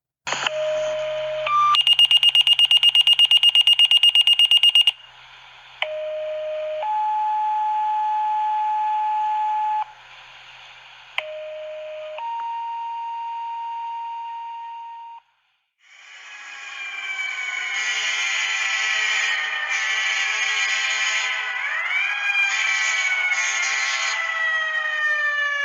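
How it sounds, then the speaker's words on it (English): Simulated emergency alert tones ring out in loud, steady electronic blocks that shift pitch in stepped segments with brief gaps, then give way to layered wailing sirens sweeping up and down. "The emergency tones and sirens you are about to hear are not real."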